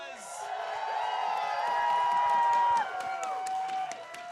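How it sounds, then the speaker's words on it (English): An esports crowd at the grand final of a game tournament cheers and claps for the winners, a sustained roar under a loud tonal sweep from the stage sound system. "One more round of applause."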